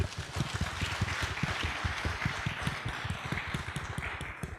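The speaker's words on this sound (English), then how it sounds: "I would like a round of applause and thanks for Helmut." Applause from a convention audience at a business panel discussion on execution, with steady dense clapping filling the room and holding at a fairly even level throughout.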